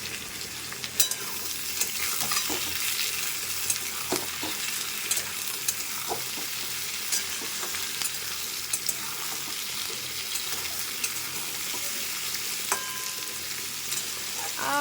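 Vegetables fry in a pan for a vegetarian spinach dish, producing a steady, close sizzle throughout with occasional scraping stirs and small crackles and no voices.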